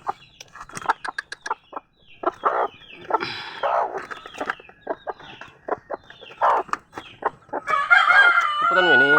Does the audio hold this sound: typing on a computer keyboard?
no